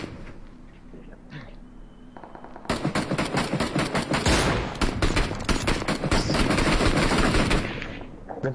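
Beryl rifle fire in a PUBG battle royale game, long rapid bursts of automatic shots starting abruptly and continuing loud and dense, with quieter distant shots before them.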